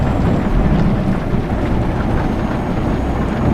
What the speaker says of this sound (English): I do like the new thunder and lightning effects.